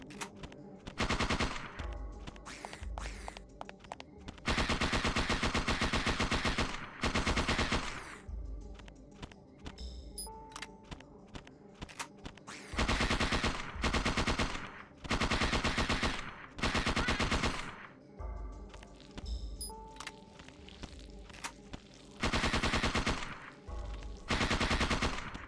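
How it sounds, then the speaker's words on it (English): Bursts of automatic gunfire from the Parasite Eve II video game, loud rapid volleys repeating in clusters with brief gaps between them, no talk over the shots. "Oh, I can actually shoot him now."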